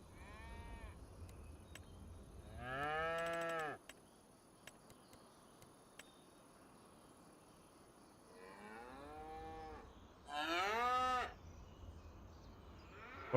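Cattle in a farming game moo several times, long drawn-out calls clustered near the middle and again toward the end, with quiet stretches between them.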